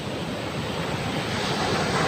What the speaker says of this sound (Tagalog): Napakalalaki ng alon